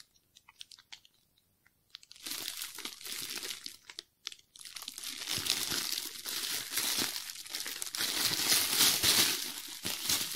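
Plastic packaging around a set of anti-slip silicone or rubber mats for a Hyundai Creta is opened and handled, first in a few faint rustles and then as a loud, close, continuous crinkling and crackling with no talking.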